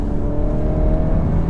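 A VW Golf R Mk 8.5 powering out of a corner makes a loud, sustained engine drone with a steady whir, heard from inside the car.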